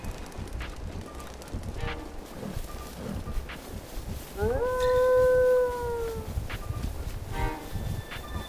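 Wolves in the video game Breath of the Wild let out one long, drawn-out howl that rises then slowly falls, standing out clearly over the game's steady background ambience.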